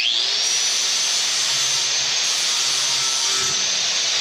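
A 4-inch angle grinder fitted with a flap disc spins up with a rising whine, then grinds off metal anchor heads in a loud, steady, close roaring hiss that runs without a break.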